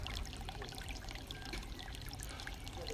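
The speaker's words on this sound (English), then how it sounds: "the water enters on one side of the pond and leaves on the opposite" Water in a backyard pond circulation system pours and trickles steadily, a soft continuous splashing flow with faint bubbling, fairly quiet and without voices.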